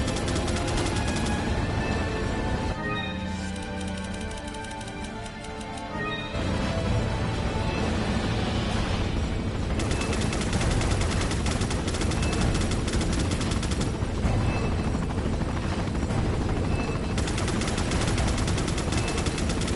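Rapid gunfire from Resident Evil 4, loud and dense bursts of shots layered over busy game music and effects, continuing almost without pause and dipping briefly before resuming.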